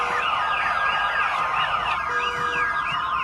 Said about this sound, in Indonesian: meretas semua alarm mobil